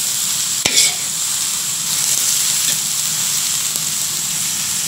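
Water spinach (genjer) stir-frying in a pan with tempeh: loud, continuous sizzling and crackling, opening with a sharp burst as the greens hit the hot oil, then steady frying with occasional stirring clinks.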